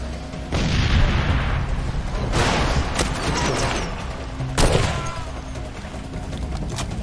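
Grenade explosions in the video game Far Cry 2, with several loud, booming blasts spaced a few seconds apart over rumbling battlefield noise and scattered gunfire, with no voices.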